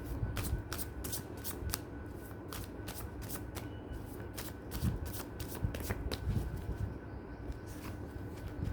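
A deck of oracle cards being shuffled by hand in a quiet room, a steady run of crisp, close riffling flicks with no voices.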